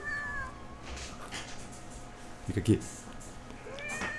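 A cat meows in a couple of short, faint calls mid-clip while a person speaks nearby in a quiet room.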